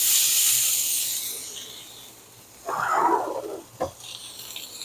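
Steaks sear in a hot carbon steel pan, a broad sizzling hiss fading over a couple of seconds, followed by a brief louder sizzle burst and a sharp clack.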